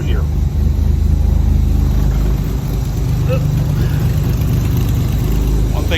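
A 1967 Austin Healey 3000 MkIII engine idles on half choke after a cold start. It makes a close, steady rumbling burble throughout while someone talks over it.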